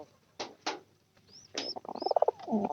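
Pet pigeons cooing in a Bangladeshi pigeon loft, several soft murmuring coos and brief rising calls close by, with a few rustles between the coos.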